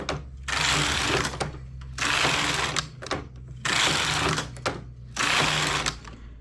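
A domestic knitting machine carriage is pushed back and forth across the needle bed while knitting lace stitch, four rhythmic whirring, clattering passes of about a second each with short pauses between them.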